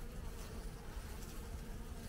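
Bees buzzing inside an opened beehive during a spring inspection in Artvin, a dense, continuous low drone heard close but quietly, with no talk over it.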